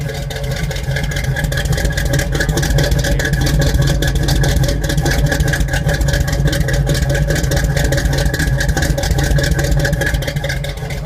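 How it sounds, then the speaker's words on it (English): A 1974 Chevrolet Camaro LT idles steadily, heard near its exhaust as a loud, even rumble with a constant rhythmic pulse and no voices. "I'll get down to the exhaust, try to give you a hear."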